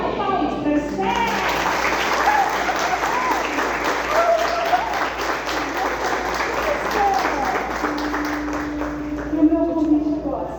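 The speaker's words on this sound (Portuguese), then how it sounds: "Vamos dar palmas para Esther." Church audience at a women's society gathering in Lins applauding Esther, a steady, loud wash of clapping lasting throughout, with a few voices and a brief tone rising near the end.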